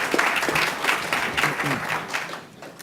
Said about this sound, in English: So a big round of applause for Peter Thomas.